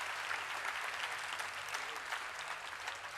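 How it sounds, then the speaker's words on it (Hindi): A gathering audience at a Gita meeting in Pune applauds, with steady, even clapping from many hands, moderately distant and sustained with no talk over it. "पुनश्च एक बार जोरदार तालियां हो जाए।"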